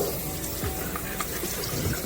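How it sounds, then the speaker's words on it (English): Cool water runs from a tap over a whole raw turkey as it is rinsed in a sink, a steady close splashing stream for about two seconds with no talk. "We're just gonna rinse that turkey with some cool water."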